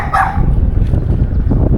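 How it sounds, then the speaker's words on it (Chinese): A small dog on a rural farm gives a sharp bark near the start, then a continuous, fairly loud low rumble of background noise follows without speech. "哦，小狗。"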